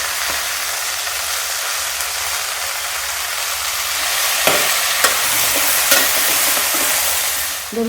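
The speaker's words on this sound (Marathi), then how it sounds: "टाकलेलं आपण वाटण जे आहे ते परतवत आल्यानंतर" A paste of ground dry coconut, garlic, ginger and coriander sizzles loudly in a hot pan for Bhogichi bhaji, with a few spoon scrapes as it is stirred.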